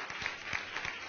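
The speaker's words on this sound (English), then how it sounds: "Round of applause for Jen." Brief burst of audience applause during a business success panel, steady broadband clapping over the whole short moment.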